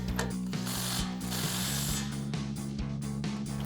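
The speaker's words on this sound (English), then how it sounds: "Now we can tighten the tie rod down with our 24mm socket." A hand ratchet with a 24mm socket tightens the tie rod nut on a Toyota Tacoma during a front leveling kit install, giving rapid repeated clicking strokes close up, with short pauses between pulls.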